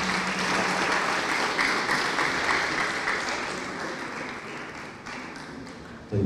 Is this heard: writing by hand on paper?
no